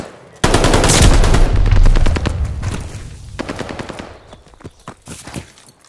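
Gunfire in Call of Duty Vanguard, with a loud, close burst of rapid automatic fire that starts abruptly and then thins into scattered shots and sharper individual reports. Some fainter distant firing runs underneath.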